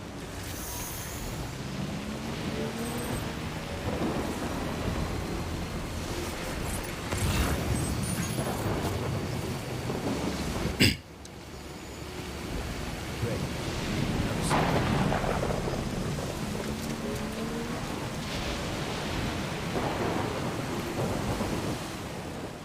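Heavy rain falls steadily during a thunderstorm in the video game Death Stranding, with rolling thunder rumbling throughout and one sharp crack near the middle, loud and continuous with no talking.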